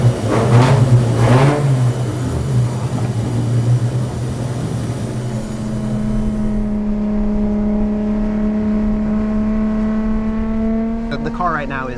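A Toyota Supra's engine runs loud and close, holding a steady idle before settling into a lower drone as the revs fall away, with a brief burst of throttle at the end.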